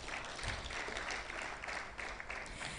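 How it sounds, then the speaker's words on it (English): Soft, distant applause from a conference audience at a Designing Tomorrow panel event, a continuous wash of clapping throughout. "A round of applause again for him"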